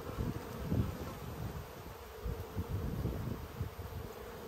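Honey bees buzz around an open hive box as they bring in nectar, a faint, steady, close drone with small flickering swells and no voices.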